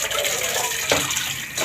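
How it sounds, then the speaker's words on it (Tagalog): Water poured into a cooking pot of soup made with small anchovies or shrimp, a steady gushing stream with a brief splashy surge partway through. "So dagdagan ko pa konting tubig guys"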